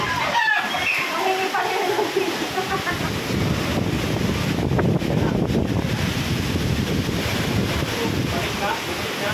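Powerful typhoon wind roars and gusts steadily in Quezon, Philippines, rumbling against the microphone, with a few faint voices briefly audible at the start.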